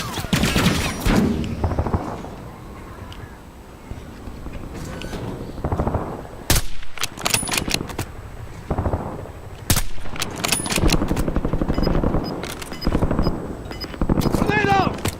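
Rapid bursts of automatic gunfire and single shots rattle through a battle royale video game match, loud and near, with bursts recurring throughout and a voice talking over parts of the action.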